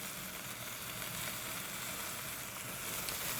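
Apples and leeks sizzle steadily in a pan while being stirred, a soft continuous frying hiss at low level with no talking.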